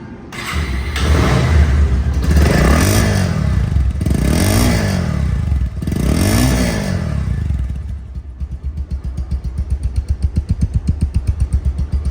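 A Bajaj Pulsar motorcycle engine revs repeatedly nearby, rising and falling several times before settling into a steady, pulsing idle.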